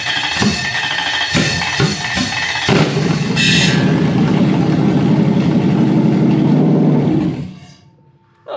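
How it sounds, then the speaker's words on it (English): A Toyota 1UZ-FE V8 cranks in a few short stuttering bursts, then catches and runs with a loud, steady roar for several seconds before abruptly cutting out. "So if I don't disconnect the ignition switch and I try to crank it again"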